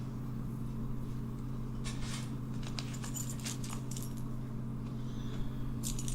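Keys jangle in short metallic bursts over a low steady hum in the background of a Doctor Who scene, with a few faint clinks spread across the moment.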